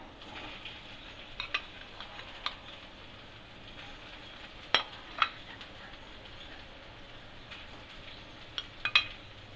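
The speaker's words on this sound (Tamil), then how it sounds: "இது லைட்டாக அப்படியே மிக்ஸ் பண்ணிக்கலாம். மிக்ஸ் பண்ணிட்டேன்." Faint, sparse clicks and taps of a spoon against a pan as mashed potato is mixed with ginger garlic paste, a few sharper knocks standing out over quiet background.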